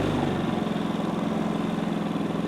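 A Predator 3500 inverter generator runs steadily at close range, its engine drone holding a pulsing rhythm as the RPMs settle lower, with no talking.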